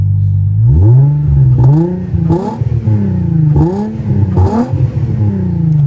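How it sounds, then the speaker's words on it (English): A Nissan 350Z with its VQ engine revs hard several times in quick succession, each blip sweeping up then falling back with crackles, loud and close over a steady idle, with no talking. "It very much sounds like a VQ, but I don't think it sounds like a horrible VQ."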